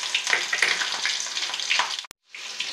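Black pepper and cumin frying in ghee for ghee ven pongal give a close, steady crackling sizzle with bright spits. It cuts out abruptly for a moment near the end, then resumes more softly.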